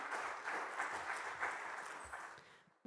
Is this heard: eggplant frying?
no